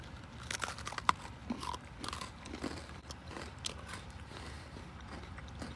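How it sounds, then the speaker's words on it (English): Rocky Road Oreo cookies are bitten and chewed up close, a steady run of crisp crunches and crackles lasting several seconds with no talking, at a low level. "Alright, I'm gonna try these Rocky Road Oreos"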